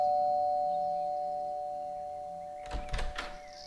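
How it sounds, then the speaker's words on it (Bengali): A doorbell rings twice in quick succession near the end, a clear chime cutting through a quiet room with a steady background hum. "নতুন আরেক কাপ চা করতে রান্নাঘরের দিকে যাবেন এমন সময় কলিং বেল বেজে উঠল"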